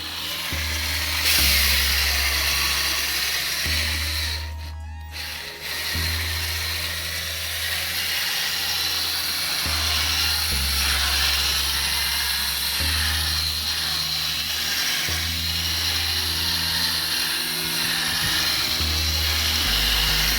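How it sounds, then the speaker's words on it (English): Power drill with a buffing pad polishing a car headlight lens during a Rust-Oleum headlight restoration, a steady close motor whine with a pulsing low hum, briefly interrupted by a sharp burst midway. "When buffing this out, make sure you keep the white head totally clean"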